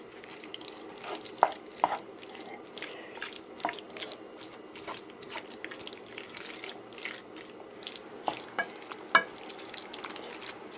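Elk spaghetti sauce is stirred in a pot, giving soft scraping and wet sloshing with occasional sharp clinks of the spoon against the metal, close and fairly quiet over a low steady background hum.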